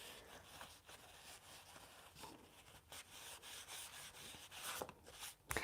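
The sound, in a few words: rubbing out a drawing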